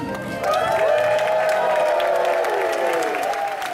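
A theme-park show audience applauds and cheers loudly and steadily, a dense wash of clapping with scattered shouts that swells early and holds before easing slightly.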